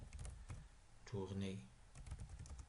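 Computer keyboard keys are tapped during a JavaFX war-game coding session, giving a few crisp, close clicks at the start and end with a short stretch of speech in the middle.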